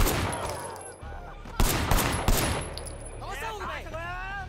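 Gunfire in the Sleeping Dogs video game: a dense burst of several shots, loud and close, with a voice heard early on and over the later stretch.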